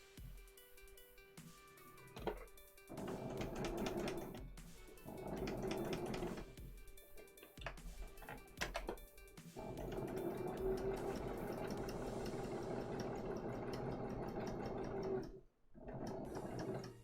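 A sewing machine stitches the small fabric arms of a No Face plushie in bursts, a mechanical whirring hum with clacking starts and stops, fairly quiet and close, with no speech.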